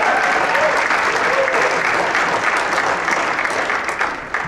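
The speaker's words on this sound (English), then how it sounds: "How about a great round of applause for our vocalist, Miss Emily Tolman." An audience at a school jazz band concert applauds a vocalist, a dense, steady burst of clapping from many hands that holds evenly and starts tapering off near the end.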